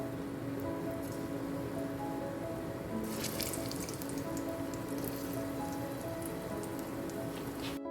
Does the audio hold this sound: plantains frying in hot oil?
yes